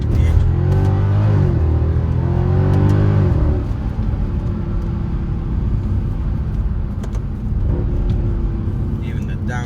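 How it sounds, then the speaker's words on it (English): A 2011 Mercedes C63 AMG with the 6.2L engine, heard from the cabin as loud rising revs with quick downshift blips in the first few seconds, then settling into a lower steady drone of road noise. "Even the downshifts, the gearbox is so responsive and it's so fast."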